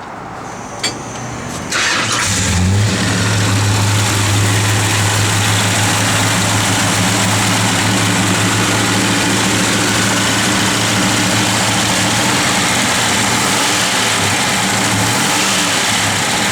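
A 1971 Plymouth Duster's big V8 engine cranks and catches, then settles into a loud, steady, lumpy idle that rumbles on without interruption.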